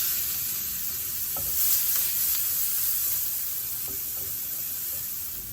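Chopped onion hits a hot pan still coated with scallop juices, setting off a steady, close sizzle that hisses evenly throughout with a few faint clicks of a utensil and no talking.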